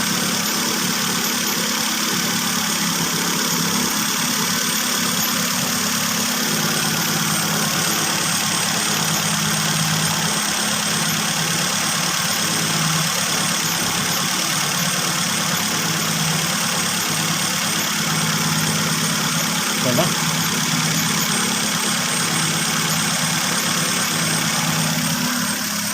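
A Toyota car engine idles steadily for the whole stretch, a constant low rumble with a whirring hum layered over it, close and unchanging.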